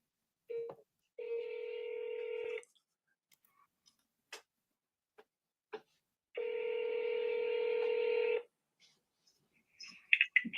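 Two long outgoing phone ringback tones sound, each lasting about one and a half seconds with a gap between, separated by faint clicks and ticks on a quiet line.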